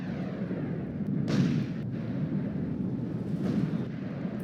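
Distant bombing explosions in the Warno wargame, a CSLA armored division battle: a steady low rumble with two muffled thuds around the middle and near the end, no talk.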